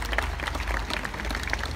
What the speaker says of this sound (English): Big round of applause for Adam